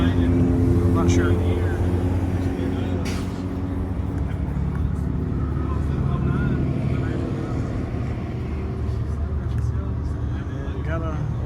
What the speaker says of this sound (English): Big V8 in there. I'm guessing it's a Chevrolet or GM product.